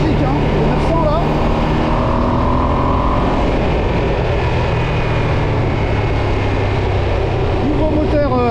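2025 Ducati Streetfighter V2 motorcycle with its new V2 engine, a continuous loud engine drone and rumble close by with shifting pitch, blended with road and wind noise.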